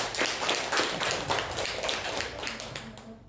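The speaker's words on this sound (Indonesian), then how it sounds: "Tepuk tangan untuk Afifah dan Namidatul." Students in a classroom clapping for two classmates after a tax lesson discussion, a short burst of hand claps from a small group that tapers off near the end.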